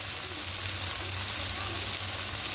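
Ground coriander, cumin, chili and turmeric powders sautéing in a pan for a spicy duck egg curry, a soft steady sizzle with faint stirring, close and low in level, with no talk.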